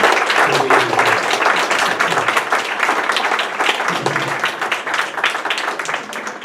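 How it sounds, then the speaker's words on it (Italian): An audience at a certificate ceremony for Friulian language and culture courses gives the students sustained applause, a dense, loud crowd clapping that runs without a break from start to finish. "Vorrei un applauso agli studenti."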